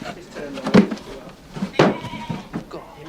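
Sheep on a Victorian-style farm bleat twice in short, wavering cries close by, separated by about a second, with quieter farmyard shuffling and faint murmuring around them.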